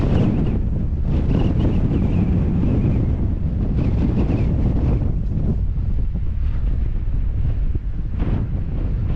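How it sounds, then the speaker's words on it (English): Strong wind gusts batter a microphone at height with a continuous loud roar and rumble that stays steady and buffeting throughout, with no talking. "Because I'm getting higher now, the wind's picking up."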